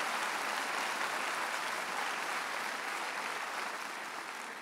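A large crowd applauds steadily at a graduation ceremony, dense continuous clapping heard from a distance, fading slightly toward the end.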